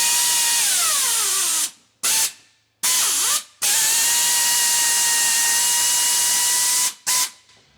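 A nut rivet tool setting a nut rivet, a loud close whirring drive with falling pitch, several abrupt stops and restarts, then a long steady run followed by two short bursts.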